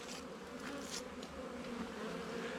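A crowd of honey bees hums loudly at a hive box after foragers pile in to reinforce a weak colony, a thick continuous buzz close by with a few sharper fluttering bursts over it.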